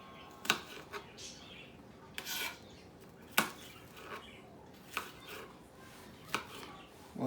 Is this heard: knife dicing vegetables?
yes